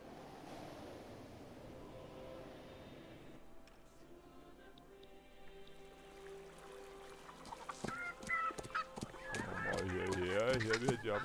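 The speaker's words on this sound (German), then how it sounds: "Und man hört auch die Hühner gackern." Chickens cluck in the ambient soundscape of the strategy game Victoria 3, their calls growing louder and busier toward the end over a steady background hum.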